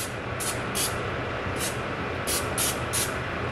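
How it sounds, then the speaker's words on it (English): Several short hissing bursts of olive oil sprayed into a pan, some in quick pairs, over a steady background hum. "I spray olive oil in the pan"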